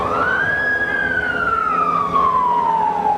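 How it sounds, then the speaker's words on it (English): A single police car siren wail sweeps upward, then slowly descends in pitch, loud and steady over a rumbling road noise background, with no talking, during the 1992 Los Angeles riots. "4 police cars went by me, 60 miles an hour, code 3, lights and sirens."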